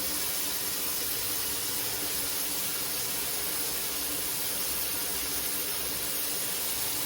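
Cabbage sautéing in a hot pan for chicken fried rice gives a steady, loud sizzling hiss that runs unbroken throughout, with no talking.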